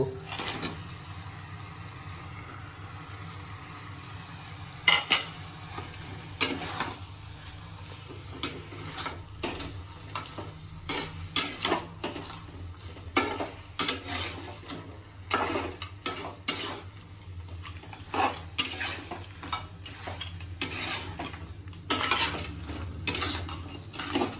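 Crab and potato pieces frying in masala in a pan, with a low steady sizzle under repeated sharp scrapes and clinks of a metal spoon stirring at an irregular pace, close and fairly loud.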